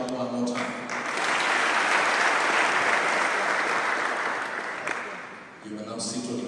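An audience claps again at a speaking event, a broad burst of applause that swells after a brief spoken lead-in, holds steady, then fades out as a voice resumes at the end.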